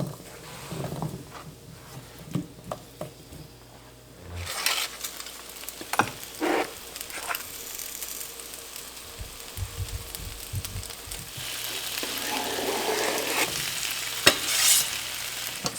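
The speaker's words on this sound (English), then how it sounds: "chopping the onions and the potatoes and getting them on the skillet" Chopped onions and potatoes cook in a skillet, with steady stirring scrapes and clinks over a soft background sizzle that swells louder toward the end, all close by with no talking.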